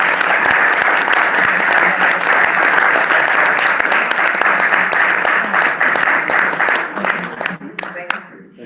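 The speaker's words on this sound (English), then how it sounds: "give yourselves a round of applause" Sustained applause from an audience at a Buffalo Soldiers evening event in the Washington State History Museum, dense and steady clapping that fills the room, loud and close, thinning out near the end.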